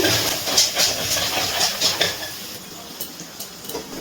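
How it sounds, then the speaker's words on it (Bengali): Spices for chicken masala get stirred and sautéed in a pan, with scraping utensil strokes and light clatter over a soft sizzling hiss that fades slightly toward the end. "এবার সব মশলার সাথে আবার একটুখানি নাড়াচাড়া করে কষিয়ে নিচ্ছি।"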